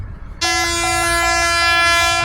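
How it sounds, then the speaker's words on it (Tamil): An express train bound for Colombo sounds a loud, sustained horn that cuts in abruptly and holds steady for about two seconds, near and dominant over faint background noise. "பரந்தல்ல ரயில் போய் கொண்டிருக்கு பாருங்க, எக்ஸ்பிரஸ் கொழும்புக்கு போய் கொண்டிருக்கு."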